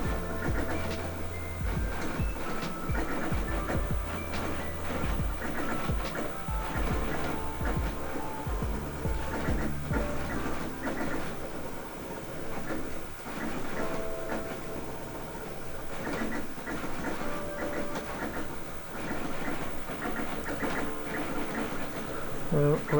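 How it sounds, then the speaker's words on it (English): A Prusa i3 MK3S+ 3D printer with dual Y motors prints a Benchy at high acceleration (10K), giving a dense, continuous mechanical whirring and rapid stepping buzz, loud and close, with faint talk underneath at times. "Reminds me more of a sewing machine than a 3D printer."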